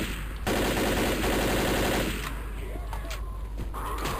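Rapid automatic gunfire in Left 4 Dead sounds as a dense, steady rattle lasting about a second and a half, followed by scattered fainter shots and game noise amid a constant hiss.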